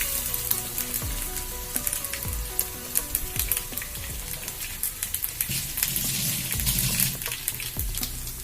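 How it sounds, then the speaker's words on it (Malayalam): Mustard seeds pop in hot oil, then crushed garlic is added and fries for a long-bean stir-fry: close, crackling sizzle with sharp irregular pops and clatters over a steady hiss. "കടുക് പൊട്ടി വരുമ്പോൾ അതിലേക്ക് ചതച്ചു വെച്ചിട്ടുള്ള വെളുത്തുള്ളി ചേർത്ത് കൊടുക്കുക."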